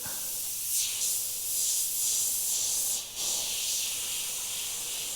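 Trigger-action airbrush spraying paint up close for fine lines, a steady airy hiss that swells and dips in short bursts as the trigger is worked.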